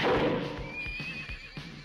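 A horse neighs loudly in a film soundtrack, a long whinny that fades into a few soft hoof clops, with no talking over it.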